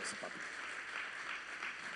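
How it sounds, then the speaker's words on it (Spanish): A church congregation applauds their pastor at an evening service, a dense steady wash of clapping that carries on without a break, moderately loud, with voices mixed in. "Démele un aplauso fuerte a nuestro pastor, amigo, mentor de esta casa"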